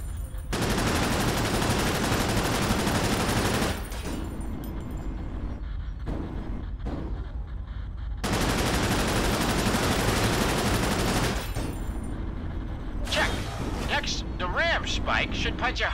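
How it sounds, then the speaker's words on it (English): Dense, continuous machine gun fire rattles through sustained loud bursts with short pauses in the sci-fi game Cryptark, while a voice talks over the shooting. "rattle off a few rounds from the machine gun into the targets"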